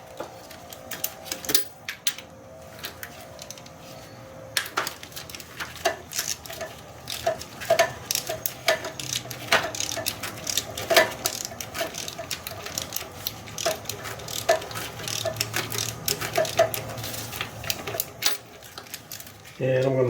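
Ratchet with long sockets working starter bolts loose on a fourth-generation Nissan Maxima, a rapid irregular clicking that comes in bursts, close and fairly loud, with someone talking in between.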